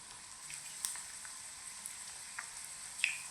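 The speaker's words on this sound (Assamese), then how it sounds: "তেলত এতিয়া পিঠাখিনি দি ল'লোঁ" Puli pitha, a traditional Assamese rice-cake sweet, frying in hot oil over a medium flame, giving a faint, steady sizzle with a few soft pops and crackles and no voices.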